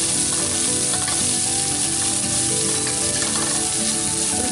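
Cubed onion hits hot oil in a pan for chilli kappa, a loud, dense, close sizzle that holds steady with light stirring underneath.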